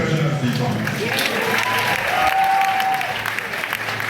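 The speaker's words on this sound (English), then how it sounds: "please give a round of applause to Mr. Treasurer as he comes" An audience at a York Castle High School graduation ceremony applauds steadily for several seconds, a broad wash of clapping with faint voices and a short tone heard beneath it.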